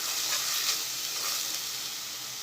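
Onions sautéing in a pan for a green garlic curry, a dense, even hiss of frying oil heard up close with no talk and little variation across the short stretch.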